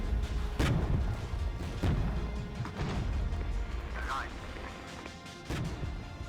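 Artillery fire in the war strategy video game Regiments: several scattered booming and crashing impacts at uneven spacing over a rumbling battlefield bed, fairly distant, with a person talking throughout.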